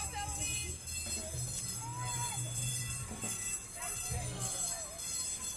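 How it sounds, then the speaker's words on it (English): A train rolls through a station at a Busch Gardens Williamsburg theme park, a low steady rumble with faint wheel squeal and clatter under the general park ambience, while people talk nearby. "the train's coming through"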